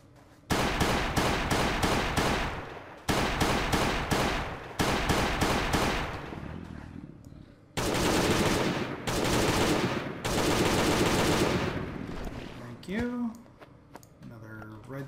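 Pistol fire in the survival video game Last Day on Earth: Survival, dense loud bursts of rapid shots in several blocks separated by short gaps, with a brief quieter tail at the end.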